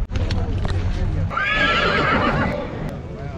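Horses whinny at a Sunday-morning livestock market in Karakol where sheep, goats and horses are sold, a loud drawn-out neigh rising near the middle over steady crowd chatter and bustle.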